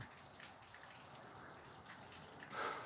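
Steady rain patters softly on surfaces, a faint continuous hiss of drops with no other sounds.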